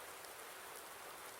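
Steady rain falling in the video game Farming Simulator 19, an even, faint hiss of drops with no breaks and no voices.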